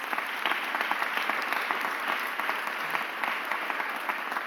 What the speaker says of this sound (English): Give Kevin Bethel a round of applause